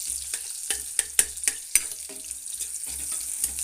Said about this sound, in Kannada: ನೋಡಿರಿ, ಈರುಳ್ಳಿ ನಮ್ಮದು ಚೆನ್ನಾಗಿ ಫ್ರೈ ಆಗ್ತಾಯಿದೆ.